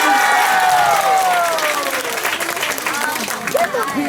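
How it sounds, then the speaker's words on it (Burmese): A crowd at a 2019 Christmas mission gathering in the Ngaphe/Minhla area claps loudly and steadily, with an amplified voice carrying over the applause. "အားလက်ခုပ်တီးပေးပါအားလုံး လက်ခုပ်တီးပေးလား"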